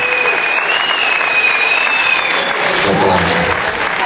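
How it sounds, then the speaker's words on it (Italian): A theatre audience at a live pop concert in the Teatro Cilea breaks into sustained, loud applause for the performers, a continuous dense patter of many hands clapping. "L'applauso più forte per loro, forte!"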